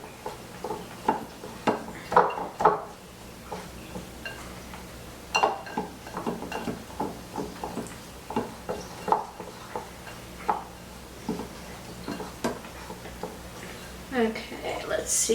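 A streusel topping mixture with butter is whisked and broken up in a bowl for a fresh peach pizza, giving light repeated scraping and tapping strokes while people talk over it.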